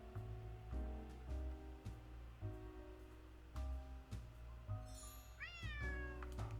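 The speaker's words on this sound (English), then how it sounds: "That's the cat Molly wants me to catch." A cat meows twice in the Nancy Drew game Alibi in Ashes, short close calls over soft ambient game music, with no talking.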